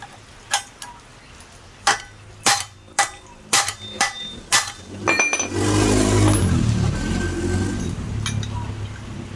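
A series of sharp metallic hammer strikes on a nail during a Supra drum brake replacement, about ten ringing blows at an uneven pace, followed by a loud broad scraping rush.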